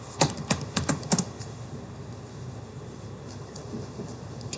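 Computer keyboard keys clatter in a quick, close burst of clicks while code is typed, then fade to quiet room noise for the remaining seconds.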